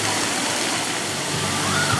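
Water pours steadily from the big tipping bucket atop a water park playground splash structure, a broad continuous rushing splash that stays loud and even throughout.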